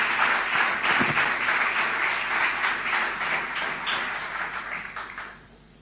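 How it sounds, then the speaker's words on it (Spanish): A church congregation claps loudly and steadily, dense applause filling the room, then it thins and fades away near the end. "denle un aplauso fuerte a Dios por eso"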